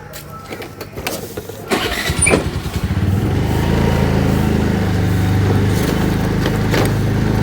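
A motorbike engine cranks with a few sharp clicks and sputters, catches, then settles into a steady, loud idle that runs on close by, with no talk over it.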